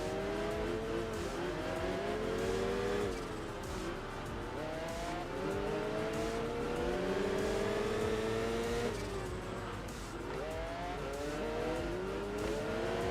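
Alfa race car engine in Enthusia Professional Racing, held in third gear, revving loudly and continuously with rising and falling pitch sweeps and occasional tire squeal throughout.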